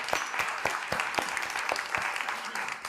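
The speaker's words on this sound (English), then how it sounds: "I'd like to give a round of applause" Audience applause at a lunch event held by a county historical society, a dense, steady clapping from a room full of people lasting throughout, fairly close and even in loudness.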